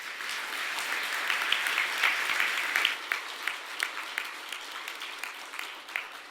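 An audience at an award ceremony applauding warmly, a dense wash of clapping that thins out toward the end into scattered individual claps.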